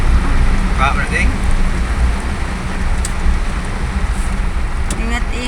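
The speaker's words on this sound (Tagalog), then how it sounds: "Sin lakas ang ulan dito, oh." Heavy evening rain pours down in a dense, steady hiss that fills the whole stretch, with faint passing road noise and brief murmuring voices in the background.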